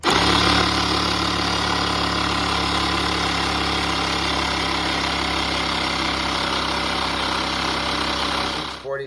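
A 12-volt tire inflator hooked to an Alfa Romeo Giulia Quadrifoglio's tire runs as a loud, steady buzzing motor drone with a pulsing pump beat, stopping at the very end.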